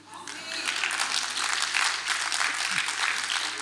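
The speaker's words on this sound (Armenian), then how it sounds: "ինչի վրա եք ծափ տալի" A church congregation applauds during a sermon, sustained clapping from many hands lasting several seconds. A voice may come through faintly beneath the applause.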